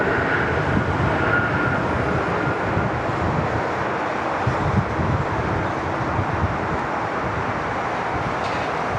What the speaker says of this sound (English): Another very low departure there for today.